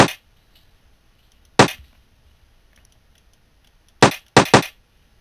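Weapon shots in a video game weapons and damage mod: one sharp report at the start, another at about a second and a half, then a quick burst of three near the end, each dry and abrupt against near silence.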